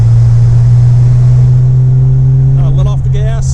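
A 1959 Austin Healey 100-6 engine drones loudly at a steady pitch while driving, dropping out of overdrive with a rise in revs near the end.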